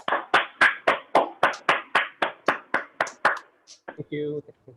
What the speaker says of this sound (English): please help me welcoming by giving a big round of applause to the Distinguished Toastmaster Navin Parwal